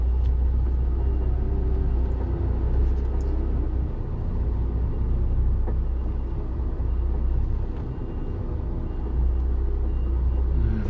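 A truck engine idles with a steady low rumble while the vehicle is maneuvered into a car park at night, a continuous near drone with slight dips in level and no talk.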